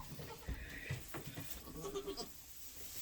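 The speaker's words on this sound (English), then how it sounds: "we've had a goat." A newborn's first-time goat mother bleats in a barn at night, a few short calls close to the recorder amid rustling and low background noise, with no talk.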